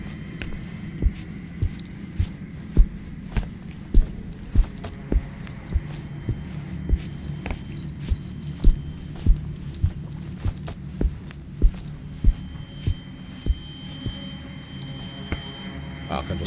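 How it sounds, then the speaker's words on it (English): Keys on a ring jangle and clink in repeated small bursts as they are fished out with a wire hanger inside a Song of Horror game scene, steady metallic chinks over a low ambient hum. "I'm not skilled enough to hook the keys using just the hanger itself."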